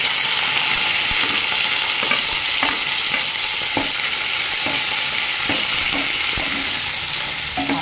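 Green peas sizzle hard in hot oil in a pan as samosa filling is made, a loud, steady hiss broken by regular scraping stirs of a spoon against the metal, with no talking.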